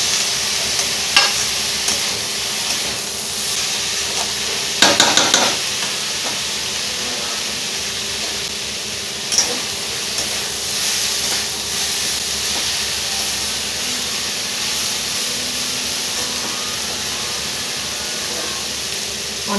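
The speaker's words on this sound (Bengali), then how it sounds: "শাক আর বেগুন একসাথে কিছুক্ষণ ভেজে নেবো।" Fenugreek greens and fried eggplant fry together in a pan, a continuous loud sizzle and hiss with a few sharp clatters of stirring scattered through, no voices.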